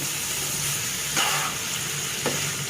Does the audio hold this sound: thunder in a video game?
no